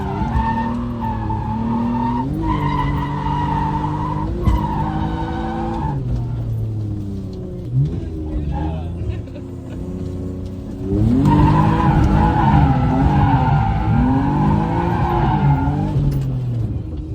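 A car drifting around a construction site gives long, loud tire squeal and skidding over a steady engine roar, the pitch swelling and sliding as it slides, then rising into a louder stretch near the end.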